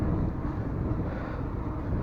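Wind rushes across the microphone while riding an Iron Horse Osprey 4.0 bicycle into a headwind, a constant low buffeting roar that fills the short stretch with no talking.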